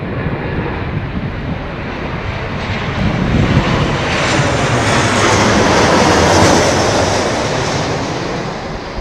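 A jet airplane departs from London Heathrow Airport, a loud roaring rush that swells to a peak around the middle and then slowly fades, heard alone without talk.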